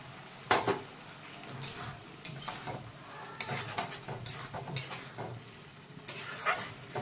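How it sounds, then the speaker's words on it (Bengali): Prawns go into a pan and are stirred, with a quiet run of metal clatters and scrapes of a utensil against the pan over a faint low sizzle. "চিংড়ি মাছগুলো দিয়ে দিচ্ছি"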